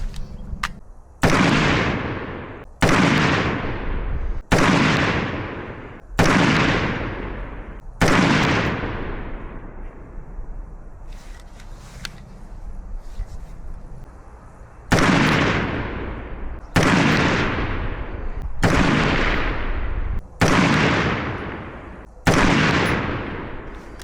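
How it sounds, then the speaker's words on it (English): Unsuppressed rifle shots from a White Oak SPR and a Red Right Hand LMG-L, two groups of five loud, sharp cracks, evenly spaced and each trailed by a fading echo, with a quiet gap between the groups. "Gonna shoot my white oak SPR and then the red right hand LMG-L again without the suppressor"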